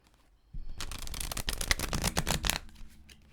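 A deck of cards is shuffled by hand close up, a quick burst of riffling flutters and snaps lasting about two seconds before fading to quiet.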